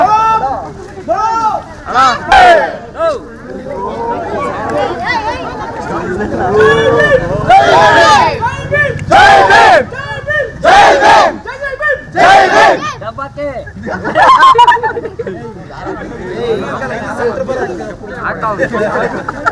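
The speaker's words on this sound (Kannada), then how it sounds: "ಎಲ್ಲ ಜೈಕಾರ ಹಾಕಿ ಸ್ವಲ್ಪ" Crowd at an Ambedkar and Babu Jagjivan Ram anniversary event by the Mahadevapura Dalit Sangha shouting victory slogans in loud, repeated bursts, voices rising together in rhythmic call-and-response, close and forceful amid crowd chatter.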